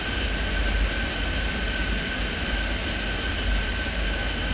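An MD-11 airliner taking off in the video game Airport Madness 3D, a steady loud jet engine roar with a constant whine, holding even throughout with no speech.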